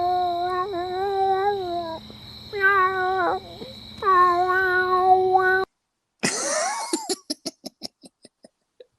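A person imitates a cat with several drawn-out meows in a row, followed by a burst of laughter and coughing that trails off into short breathy chuckles.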